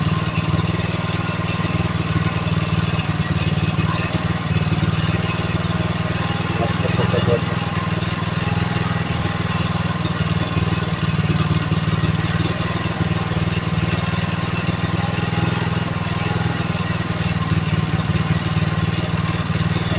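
A homemade generator driven by a motorcycle engine idles in a steady, loud drone with a low hum and a faint rattle, and the note holds constant throughout.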